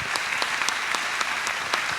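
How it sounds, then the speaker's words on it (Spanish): An audience applauds at the close of a conference session, a dense steady wash of clapping with sharper individual claps standing out, continuous and fairly loud, with no voices. "Los despedimos entonces con este cálido aplauso."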